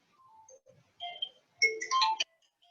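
A phone ringtone plays a short electronic melody of bright synthetic notes, rising into a louder cluster of chiming tones, heard alone and clear in a quiet room.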